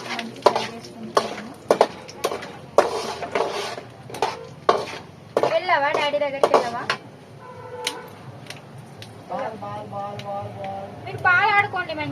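Peanuts stirred and frying in a pan make repeated close scraping strokes and small clatters against the metal, with a voice and some tonal background sound over parts of it.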